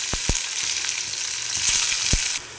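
Onions sizzle in sesame oil with popped mustard seeds and curry leaves for an egg curry, a steady hiss broken by a few sharp utensil clacks near the start and end, close and fairly loud.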